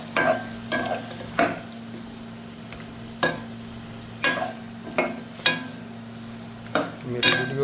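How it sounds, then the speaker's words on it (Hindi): Mutton frying in a karahi pan and being stirred, with a series of sharp metallic scrapes and knocks at uneven intervals over a steady sizzle, close and fairly loud, with no talk. "हमारा जो मटन है अभी इसको अच्छे तरीके से हम बिल्कुल अच्छे तरीके से फ्राई कर लेंगे"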